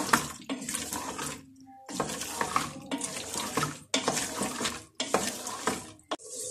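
Water pours in bursts into mixed vegetables cooking in a pan with yogurt, a loud broadband gush repeating five or six times with short gaps between pours, with no talking.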